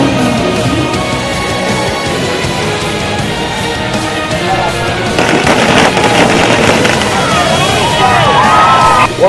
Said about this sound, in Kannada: ಪಟಾಕಿ ಸಿಡಿಸಿ ಭರ್ಜರಿ ವೆಲ್ಕಮ್ ಜೋರಾಗಿತ್ತು.